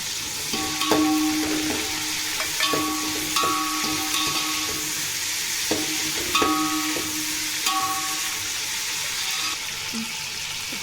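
Mint leaves fry in a pan with a steady, close sizzle, broken by repeated scrapes of stirring.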